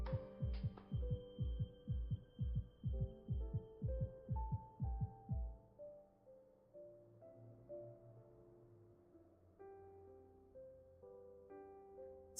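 A character's heartbeat in a video game, a deep, steady throbbing pulse of about a dozen beats that fades out as a soft melodic chime line takes over, with a hum underneath.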